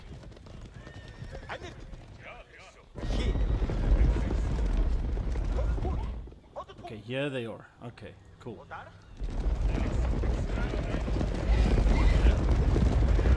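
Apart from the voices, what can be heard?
horse hooves in a video game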